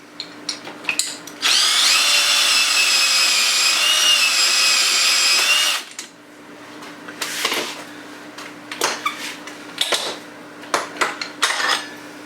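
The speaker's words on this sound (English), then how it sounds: "I want to show it one more time how easy it goes with the drill." A power drill whirs steadily for about four seconds, loud and close, then stops, followed by scattered clinks and handling noises.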